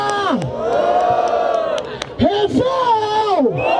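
A crowd at a Brazilian rap battle semifinal in Barueri roars and whoops loudly and continuously, rising cheers and yells layered together up close.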